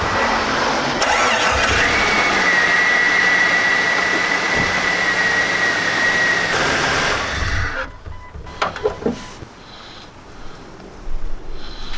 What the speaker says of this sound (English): I'm just going to start the car for a second to let this belt center on the pulleys